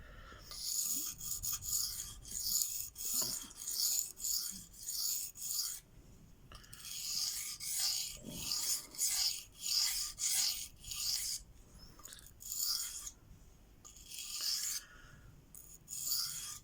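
A working knife is drawn across Venev diamond stones in rhythmic, scratchy rasping strokes, repeated steadily about once a second with brief pauses between runs, close and alone.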